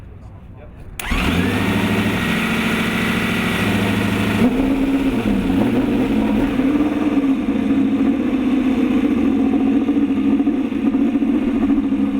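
Jim Clark's Lotus 38 Ford Indy race car fires up at the Speedway and settles into a loud, close idle with blips of the throttle, its engine note wavering as revs rise and fall.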